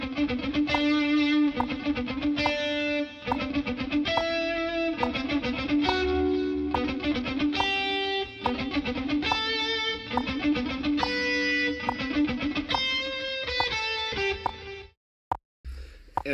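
Electric guitar runs through a three-note-per-string picking burst exercise, rapid repeating bursts of notes with shifting ending notes, played with effects and distortion for about fifteen seconds before stopping abruptly.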